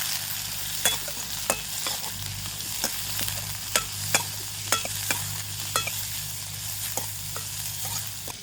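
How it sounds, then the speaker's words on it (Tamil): Onion sautéing in a pan for an egg samosa filling gives a steady sizzle with sharp intermittent stirring clinks and scrapes, close and without talk. "இதுக்குள்ளே நான் வெங்காயத்தை சேர்க்கிறேன். வதக்கட்டு வெங்காயம்"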